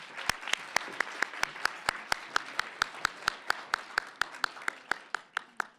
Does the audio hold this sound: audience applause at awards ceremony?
yes